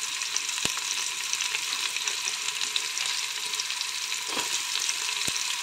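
Onions frying and starting to brown in a pan give a steady, close hiss of sizzling, with a couple of sharp clicks and a brief stir partway through.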